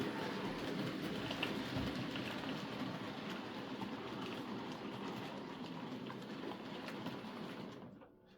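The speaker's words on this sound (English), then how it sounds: "we'll bring the Mallard in, last train for the day" The Mallard train rumbles past with steady rolling noise and faint rhythmic clatter, fairly quiet and sustained, fading out abruptly at the end.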